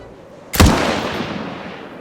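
A single sharp gunshot cracks out close and loud, its boom rolling away in a long fading echo over quiet background.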